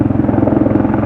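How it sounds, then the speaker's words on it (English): A helicopter passes overhead above a garden, its rotor giving a steady, loud, pulsing thump with a deep engine drone and no other sound. "And a helicopter coming overhead"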